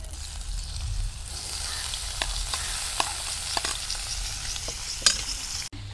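Boiled chalta is frying in hot oil with black mustard seeds and chopped green chillies. A steady, fairly quiet sizzle runs throughout, broken by several sharp clinks and scrapes of a spoon stirring the pan.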